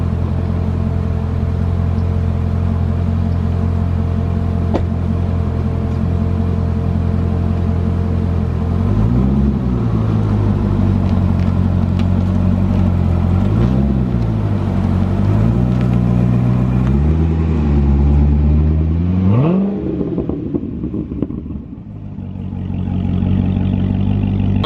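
A 600 hp Corvette ZR1 idles with a deep, steady rumble, then its engine note rises and falls as it creeps over a driveway slope, with clattering and scraping before the sound tapers off near the end.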